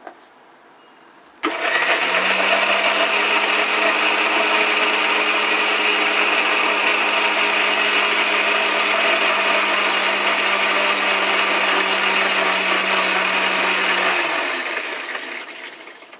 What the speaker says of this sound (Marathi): हे बघा आता हे मी मिक्सरला लावते।